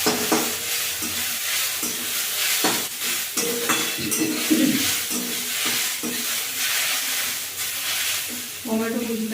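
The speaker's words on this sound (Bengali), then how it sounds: "আলুটা দিয়ে একটু নেড়ে ছেড়ে নিয়ে ক্যাপসিকাম কুচিটা দিয়ে দিচ্ছি" Sliced capsicum and potatoes sizzle in oil in a frying pan while being stirred, with steady hissing broken by repeated scraping and clinking strokes close by.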